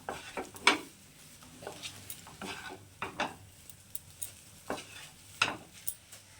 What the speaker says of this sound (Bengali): এবারে নুনটার সঙ্গে খুব ভালো করে মিশিয়ে নেব